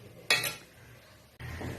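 Metal lid set down onto a cooking pot with a sharp clank, followed by a softer second clatter of the lid settling a second later, quiet kitchen otherwise.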